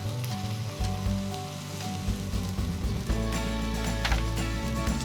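Sous vide New York steaks searing over lump coal on a Weber Go Anywhere grill hiss and sizzle loudly and continuously, a dense crackling sear with scattered pops throughout.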